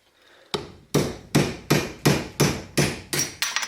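Eight sharp hammer blows ring out at a steady rhythm, each a loud close metallic strike with a short decay, driving a part out of a Cub Cadet 100 tractor during transmission work.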